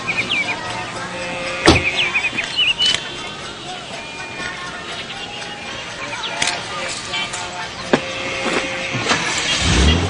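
A car pulls away and drives off, its engine a steady broadband rumble with road noise that swells slightly toward the end, and a few sharp clicks along the way.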